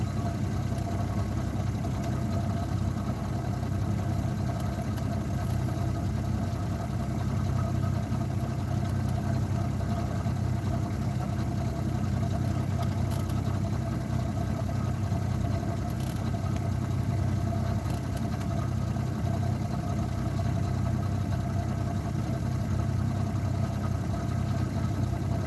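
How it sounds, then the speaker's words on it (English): A fishing boat's engine runs throttled down while salmon trolling, a steady low idling drone that holds constant and fairly loud throughout, with faint water noise beneath. "Okay, I can throttle down a little bit and slow down."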